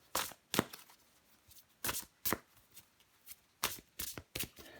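Tarot cards being shuffled by hand during a reading, in quick papery riffling bursts, about a dozen short swishes in an uneven rhythm, close and fairly soft, with no talking.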